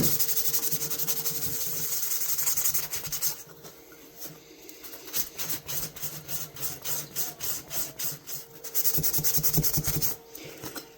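An old knife blade being rubbed by hand to remove rust, a close raspy scrubbing in steady repeated back-and-forth strokes, with continuous hiss at the start and end and a rhythmic run of short strokes in between.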